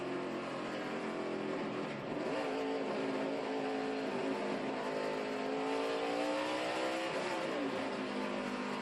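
A NASCAR race car at the 2012 Tums Fast Relief 500 loses power as its engine cuts out, a steady engine drone with shifting tones heard from a distance on a racetrack, continuous for the whole stretch without any voices.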